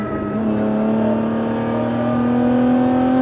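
A Lotus Emira sports car on a track, its engine droning loudly and steadily with a rising tone, heard close from inside the car, no talk over it.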